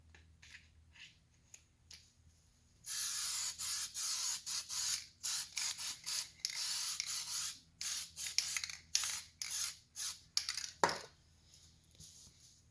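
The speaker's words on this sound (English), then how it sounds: "spray a gasket sealant" Close aerosol spraying of gasket sealant onto a new gasket during a Yamaha Banshee clutch install, in a long series of short hissing bursts, rhythmic and steady, after a quiet start, with a few light clicks.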